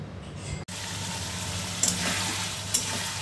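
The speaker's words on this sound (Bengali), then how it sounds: "এখন আমি আলুটা মশলার সাথে কষিয়ে নিচ্ছি আর রান্না করব।" Potatoes fry with spices in a pan, giving a steady, moderately quiet sizzle with a few brief scraping stirs and no speech.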